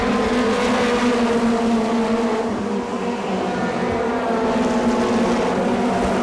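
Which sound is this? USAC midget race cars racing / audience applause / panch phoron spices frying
USAC midget race cars racing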